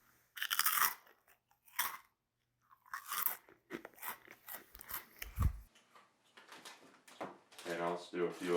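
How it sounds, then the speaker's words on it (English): Crunchy Cheetos are bitten and chewed close to the mouth, several sharp crisp crunches in separate bursts with quiet gaps between them, mixed with chewing and someone speaking. "I have some crunchy Cheetos here. So we're going to go for some crunch sounds."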